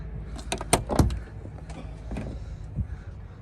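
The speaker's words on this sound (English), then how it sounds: "Door shuts, not too bad" A 1988 Ford Capri Injection's door slams shut with a solid thud, followed by a faint second knock amid quiet outdoor background noise.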